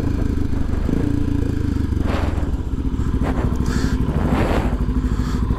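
A motorcycle rides along following other riders, its engine droning loud and continuous with rising and falling revs, wind rumble and occasional clatter.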